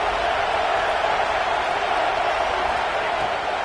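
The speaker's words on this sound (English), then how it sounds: "This crowd, full throat, spreading the eardrums and letting them know it's going to be a long day." A packed football stadium crowd roars in a dense, unbroken wall of noise, loud and sustained throughout with no distinct pauses.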